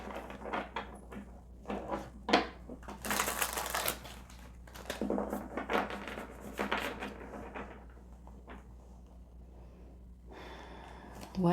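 Tarot cards are shuffled up close during a card reading, giving bursts of crisp riffling and flicking that come and go with brief breathy sounds.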